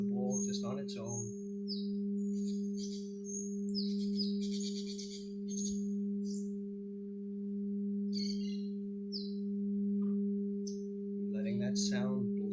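Birds chirp and trill in short scattered bursts outside a meditation pavilion, set over the steady sustained hum of a ringing singing bowl, with brief voice fragments at the start and end.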